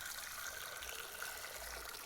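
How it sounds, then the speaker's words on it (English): Water pours steadily into a cooking pot for ramen, a soft continuous gushing trickle, faint and close, with no talk. "Now, add your clean and clear water."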